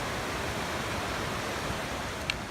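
Water flows over rocks in a stream at a campsite, a steady broadband rush with no breaks and no voices.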